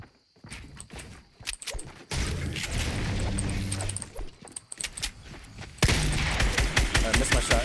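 Gunshots in a shooter game, a sharp crack followed by a series of rapid clicks and clattering bursts, with louder roaring passages of action in between.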